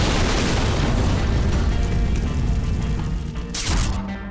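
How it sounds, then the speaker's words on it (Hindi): A bomb detonates beside a bus's CNG cylinder with a loud, dense roaring boom that rumbles and crackles for about four seconds, with a sharp crashing burst near the end. "और जब धमाका हुआ"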